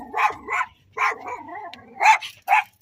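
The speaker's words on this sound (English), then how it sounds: "She's barking at something." A dog barks several times in short, close yips with brief pauses, followed by a faint whimpering whine between barks.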